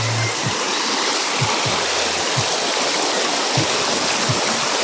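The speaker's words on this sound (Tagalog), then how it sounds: "ang lakas ng agos guys" A strong current rushes through a river in the Cacaoiten area, a dense and loud wash of water that fills the whole clip. Low thumps and knocks occasionally break through close by, and no voices are heard.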